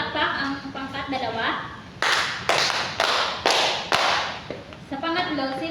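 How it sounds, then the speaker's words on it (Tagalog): A classroom of students gives a group five sharp claps in unison, a steady rhythmic burst between stretches of a voice talking before and after. "Bigyan ng 5 palakpak ang pangkat 2."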